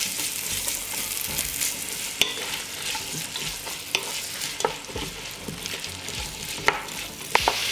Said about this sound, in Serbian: Luk ću pržiti dok ne omekša.